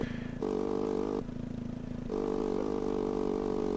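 A motorbike engine in the VR game Moto Taxi on Meta Quest 3, droning steadily and rising in pitch in two surges, with a rattling, buzzy tone that stays constant and close.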